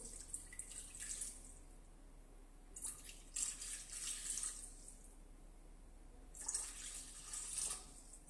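Water being poured into a bowl, about 360 g, while cooking a chicken blanquette with carrots and mushrooms; three separate bursts of trickling and splashing liquid with quiet pauses between them, close by and moderately soft, with no talking.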